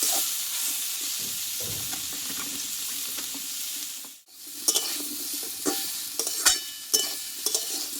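Vegetable mixture for Bengali vegetarian thor sautéing in a kadai until reddish, a steady close frying sizzle with scrapes and clinks of stirring, briefly dipping quiet midway before resuming.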